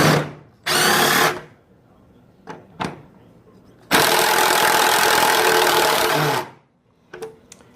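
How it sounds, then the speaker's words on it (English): A cordless power tool unscrews screws on a Ford truck headlight, whining in two long bursts of about one and two and a half seconds, separated by short clicks and handling knocks, close and loud. "I'm just going to unscrew them here. Got to kind of walk them out."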